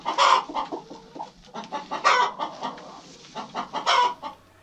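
Chickens cluck repeatedly in a barnyard on a farm, several close, bursty calls coming in uneven clusters with short pauses between them.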